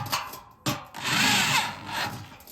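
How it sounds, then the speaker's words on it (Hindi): A power drill tightens the nuts and bolts on a TV antenna dish, whirring in a few close, loud bursts with short pauses between them. "अब अटैच करने के बाद जो है ना इसी ड्रिल मशीन से"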